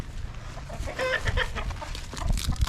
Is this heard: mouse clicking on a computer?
no